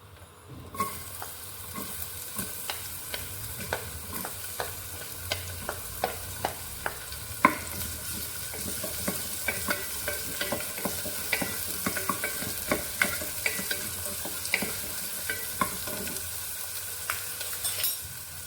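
Onions sizzling in a pressure cooker with frequent sharp scrapes and taps from stirring, close and moderately quiet, a constant hiss beneath the repeated clicks.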